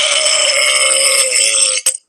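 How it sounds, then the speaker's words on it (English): A loud, sustained belch rumbles steadily for nearly two seconds, then breaks off with a short sharp tail at the end; no talking over it. "The belch needs to get louder today."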